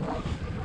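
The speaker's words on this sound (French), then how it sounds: "Avec tout ce vent" Strong wind buffets the microphone at the Méribel altiport in the Three Valleys ski area, a loud, low, continuous rumble with no voices.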